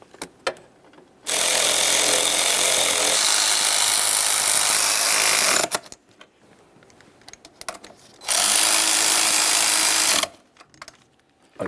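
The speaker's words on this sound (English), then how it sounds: "snug them up and torque those to 16 foot-pounds" A power tool runs on intake manifold bolts on a 2007-2013 Acura MDX with a 3.7L V6, in two loud sustained whirring bursts of several seconds each separated by quiet pauses.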